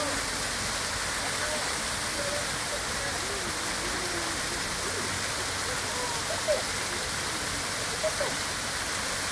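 A waterfall in Byeokchoji garden rushes in a steady, broad, loud wash of falling water, and voices faintly murmur underneath it.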